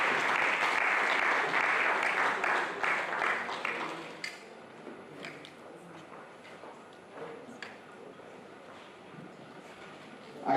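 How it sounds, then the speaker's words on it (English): Loud audience applause fills a hall at a Lagos State University valedictory programme and book presentation, dense clapping for about four seconds before thinning into scattered claps and room murmur. "I thought we were going to be clapping till I get here."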